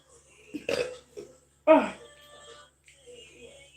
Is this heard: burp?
yes